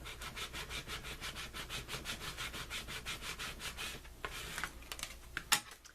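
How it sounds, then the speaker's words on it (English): A scraper rubs back and forth over transfer paper laid on adhesive vinyl, a close, rhythmic scratching of steady strokes that gives way to a few irregular scrapes at the end. "I'm going to use my bone folder. I will also use my scraper."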